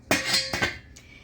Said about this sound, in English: You put the lid on.